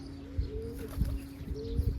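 A lame pigeon coos softly nearby in a low, throaty, repeating rhythm, with faint background noise and no speech.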